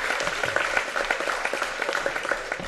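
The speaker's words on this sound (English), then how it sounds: "another nice round of applause for Amina Ayakabuchi." A crowd at a girls' basketball game applauds steadily, many hands clapping at once in a dense, continuous patter that holds for a few seconds.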